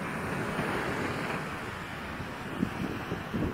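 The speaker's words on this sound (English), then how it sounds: "I feel like I'm on the beach and I think it's quite windy" Steady wind rushing on a windy beach with a soft, continuous wash of ocean surf in the background, no voices, constant and fairly loud throughout.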